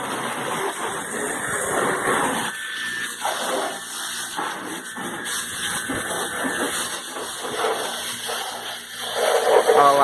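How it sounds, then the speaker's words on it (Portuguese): Water sprays onto a dirty car during a wash, a fluctuating hiss and splash with bursts and pauses as the stream moves across the body, with faint background noise. "Vamos jogar água na nave."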